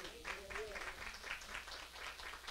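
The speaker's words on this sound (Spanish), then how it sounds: "da un fuerte aplauso a Dios" Church congregation applauding during a Sunday service, a steady patter of many hands clapping at moderate volume, with a voice faintly carrying beneath the clapping.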